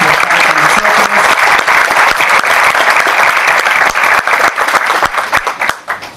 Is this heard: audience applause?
yes